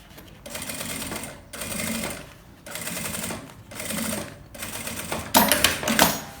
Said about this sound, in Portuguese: E agora é só vir aqui, ó, passando a costura pra segurar o forro no principal